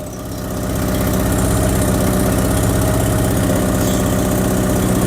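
A Porsche 944 engine with a badly leaking exhaust idles close and loud, a rough, rapid puttering pulse that settles into a steady rhythm after a brief rise, with no talking.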